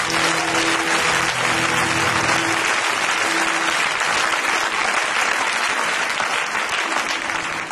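An audience at a church seminar keeps up sustained, loud applause to acclaim Jesus, a steady dense clatter of many hands clapping, with faint tonal music or a held note underneath.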